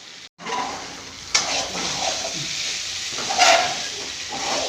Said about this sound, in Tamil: கொஞ்சம் குறைஞ்ச தீயே அப்படியே வதங்கிட்டே இருக்கணும்.